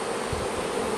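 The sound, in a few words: Italian honey bees buzzing around hive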